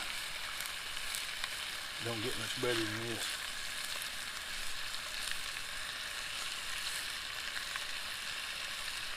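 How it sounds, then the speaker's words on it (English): Big bacon strips from a 700-pound hog fry in a pan that only holds three pieces, giving a steady, fairly soft sizzle throughout, with someone speaking briefly over it. "Smell that bacon frying."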